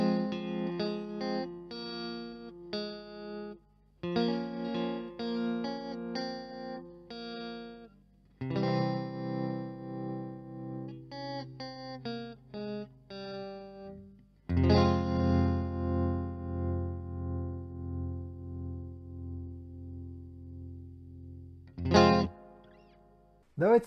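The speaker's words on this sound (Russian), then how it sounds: "И выберем тоже треугольную модуляцию." An electric guitar through a MOOER tremolo pedal set to triangle modulation plays chords and note runs with pulsing, wavering volume, interrupted by pauses, with no one talking over it.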